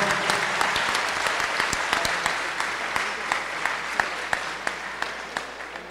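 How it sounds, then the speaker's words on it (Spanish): Audience applause at an outdoor folk festival in Guanacaste, Costa Rica: a steady, dense wash of clapping from a crowd that holds for several seconds, with a few sharper individual claps standing out near the end. "Un aplauso."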